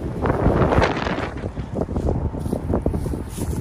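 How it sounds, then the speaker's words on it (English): Strong headwind of about 25 mph buffeting an outdoor disc golf course, a loud continuous roar of wind noise with gusty surges across the whole stretch and no talking. "We have a ripping headwind"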